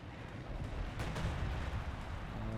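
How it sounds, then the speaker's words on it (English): Off-map artillery barrage in Company of Heroes 2, a steady rumbling roar of distant shelling with dense, overlapping booms and a sharper crack near the middle, continuous and loud throughout. "Off-map artillery coming in."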